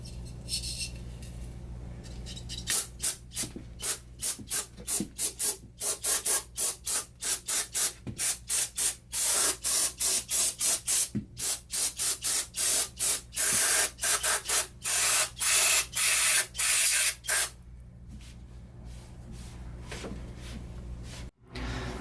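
Degreaser sprayed onto old greasy diff and leaf spring parts in a long run of short, sharp hissing bursts, close and loud, with brief pauses and a quieter stretch at the end.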